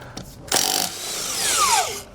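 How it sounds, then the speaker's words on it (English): A power tool with a 3/4 socket spins lug nuts off a trailer wheel during a heavy-duty suspension kit installation, a short, sharp burst followed by a whirring spin-down, close and alone. "we'll then remove our lug nuts."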